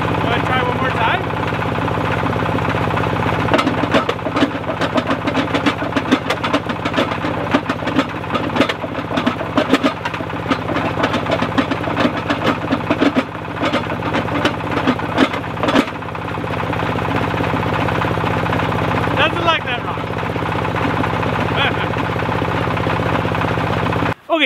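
A cheap Chinese-made rock crusher runs loud and steady, its engine droning under dense clattering and banging as material is fed through, with brief dips in the grinding and a sharp knock at the very end.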